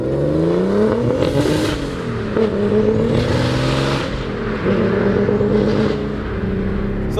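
A 675 HP turbocharged E36 BMW M3 is heard from inside while driving, its engine droning and rising through repeated revs, with pitch climbing and dropping through gear changes and a hissing turbo whoosh riding on top.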